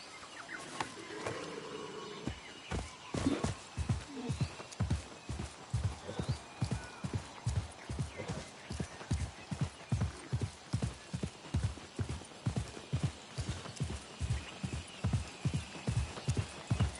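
Horse hooves in the Assassin's Creed Mirage video game, a steady loud clip-clop rhythm at a trot with an early whinny, over faint insect and bird ambience.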